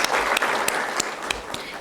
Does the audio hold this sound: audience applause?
yes